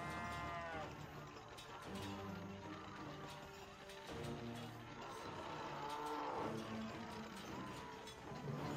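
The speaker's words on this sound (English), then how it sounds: "My three Nazi cow minions will take care of you." Cows moo repeatedly in South Park: The Stick of Truth, the drawn-out lowing calls from the game's Nazi cow minions overlapping amid steady game sound at moderate volume.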